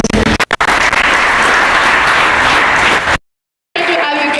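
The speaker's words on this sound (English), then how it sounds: "Applause for him, please." Loud, dense crowd applause at a college quiz event honoring an oil company representative, cut off abruptly into silence before noisy sound resumes briefly.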